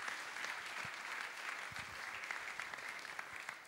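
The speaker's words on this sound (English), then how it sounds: "Let's give Paul a round of applause." An audience applauding a morning speaker, a dense, even patter of many hands clapping, fairly faint and steady throughout.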